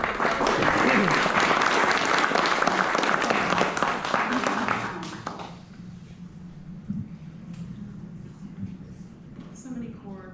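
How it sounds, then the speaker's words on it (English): Audience at a guest ranch event with Kern County cattlewomen breaks into loud, dense clapping for about five seconds, then the applause fades into quieter room murmur and scattered handling sounds. "Big round of applause."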